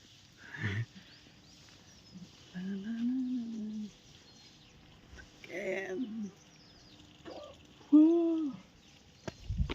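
A few scattered clucks and short throaty calls from a rooster drinking water, quiet and sparse with pauses between them, including one louder call near the end.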